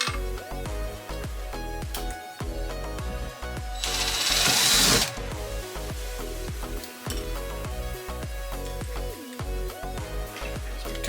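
A power drill bores into a wall, buzzing loudly with a brief higher-pitched burst in the middle, mixed over steady background music.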